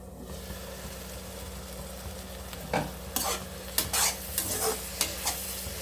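Tomatoes cooking over medium heat in a pressure cooker for mushroom biryani, a steady low sizzle with a few sharp scraping stir strokes toward the end, close and fairly quiet, no voices.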